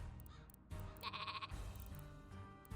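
Several cartoonish sheep bleats from the Worms W.M.D video game, short wavering cries in quick succession, close and clear with no talking.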